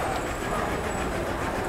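Steady rumble and rattle of a train inside a railway station, continuous and fairly close with a broad low roar and no distinct clacks.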